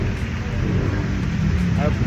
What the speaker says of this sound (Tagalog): Ayaw magpaawat ng ulan.